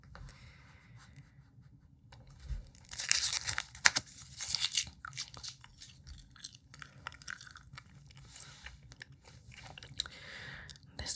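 Quiet close-up gum chewing in a soft-spoken ASMR setting, with wet smacks and sticky clicks coming in irregular bursts over a faint hush, louder in the middle and sparse elsewhere.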